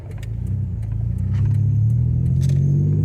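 A 1964 Ford F100 engine idling with massive exhaust leaks and in need of a tune-up, a close, steady low rumble that swells slightly, with light ticking and rattling on top and no voices.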